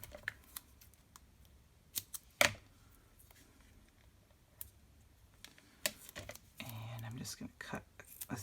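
Scissors snip foam tape at close range in a few quiet, sharp cuts with soft handling noises in between, while a person whispers and talks faintly in a quiet craft setting.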